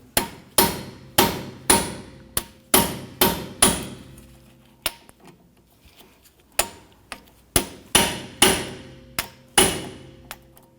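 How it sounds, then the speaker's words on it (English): Impact screwdriver loosening screws during rear wheel bearing and hub replacement on a 2017-2020 Hyundai Elantra, struck in a long series of loud, sharp, evenly spaced blows with a brief pause in the middle, close and without talk. "We're going to use an impact screwdriver here to go ahead and loosen these."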